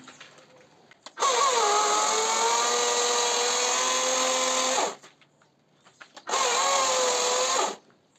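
A power tool bites through wood while a stingless bee colony is cut free, whining in two sustained loud bursts of about four seconds and a second and a half, with short quiet pauses between them.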